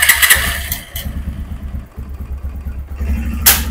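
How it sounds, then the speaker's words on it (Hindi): A Bajaj Pulsar 150 BS6 motorcycle, just fitted with a cleaned fuel pump that had water in it, cranks and fires up close by, then settles into a loud, throbbing idle with a brief rev at the end. "देखते हैं बाइक को स्टार्ट कर।"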